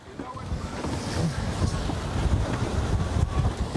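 Strong wind of about 20 knots and breaking waves around a sailboat at sea during a man-overboard recovery drill, a loud, constant roar of wind buffeting the microphone over rushing surf.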